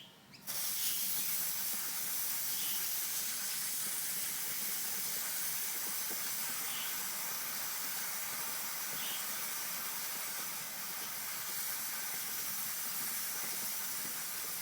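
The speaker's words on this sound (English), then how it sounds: "we're going to spray into in between each of the links here" Lubricant sprays onto the chain links of a Suzuki GS500 motorcycle as a steady, close, continuous hiss lasting about fifteen seconds without a break.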